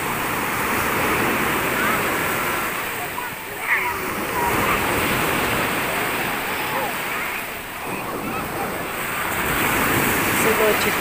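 Steady surf crashing and rushing on a shore, a continuous broad wash of breaking waves with faint swells rising and falling throughout.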